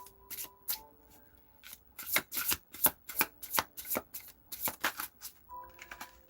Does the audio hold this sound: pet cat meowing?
no